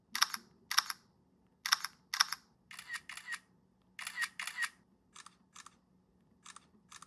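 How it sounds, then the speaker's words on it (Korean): Loud shutter clicks from a Xiaomi Poco X7 Pro phone camera, a Korean-market unit whose shutter sound cannot be turned off. Crisp snaps come in pairs and then as single shots, with short gaps of near silence between them. "카메라 셔터음이 너무 커서 조용히 찍고 싶을 때 가끔 놀란다"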